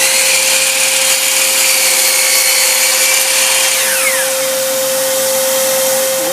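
A power saw cuts a 35-degree miter in a piece of wood tipped up on its side, with a steady, loud, close whine and no pauses throughout.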